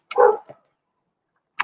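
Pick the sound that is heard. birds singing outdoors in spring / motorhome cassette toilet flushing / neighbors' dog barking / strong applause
neighbors' dog barking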